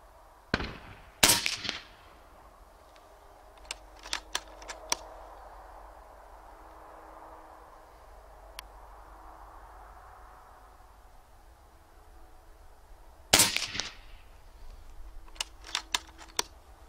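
A PCP air rifle fitted with a Wrangler Phenom moderator fires a few sharp, suppressed cracks, two loud shots far apart with fainter clicks and ticks between them in a quiet setting.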